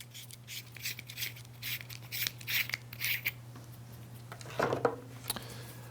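The threaded back cap holding the power switch of an Odepro KL41 Plus hunting light is twisted off, making a series of quiet, close scraping and rasping turns with one sharper grind near the end.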